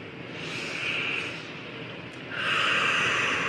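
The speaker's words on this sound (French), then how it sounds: "Inspire et expire." Slow, deep breaths in and out during facial self-massage, two long airy breaths close to the mic with no talking.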